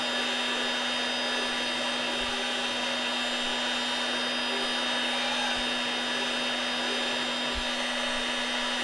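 A heat gun runs steadily at close range while heating the two pieces of a replacement paddle shaft, a constant loud hot-air roar with a fixed motor whine and a few faint knocks.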